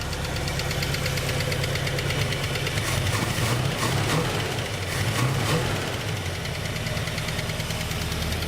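A 1967 Buick GS with a 340 engine runs steadily and loudly up close, a rough knocking idle that swells briefly in the middle before settling, with no talk over it.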